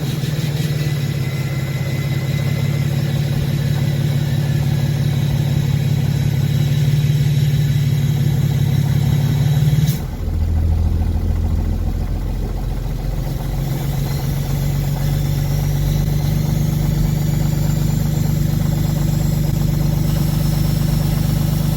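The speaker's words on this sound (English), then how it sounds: "I was starting all the trucks." Diesel trucks idling nearby with a steady low rumble; one engine cuts off partway and another continues at a deeper, steady idle.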